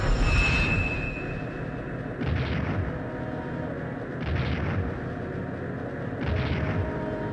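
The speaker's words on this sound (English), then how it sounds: "Harpoon Cannon, fire!" A harpoon cannon fires in the Skies of Arcadia Legends video game: three or four heavy booming blasts land at regular two-second intervals over a continuous low rumble, with no talking.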